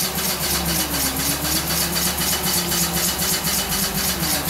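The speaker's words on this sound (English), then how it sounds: "It's a very sweet running engine." A well-built model steam engine runs steadily on its own, a close, even mechanical chugging with a continuous hiss and a low rhythmic pulse throughout.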